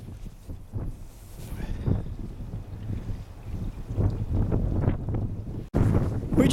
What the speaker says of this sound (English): The wind's blowing pretty cold.